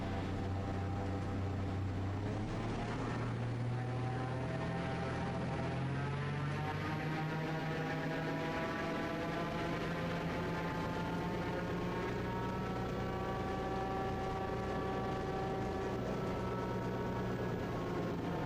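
Raptor prototype aircraft engine during a taxi run, a steady droning hum with clear tonal harmonics that climb in pitch early on and then level off, continuous and alone.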